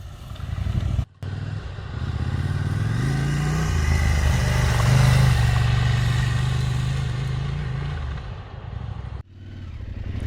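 A Husqvarna Norden 901 adventure motorcycle rides off-road, its engine droning steadily and swelling in the middle before easing off, loud and close with no talking.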